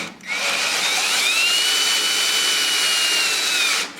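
A power drill spins steadily for several seconds, boring a center point into a Warn winch mounting plate, a loud continuous whine with a rising pitched tone, close by and without speech.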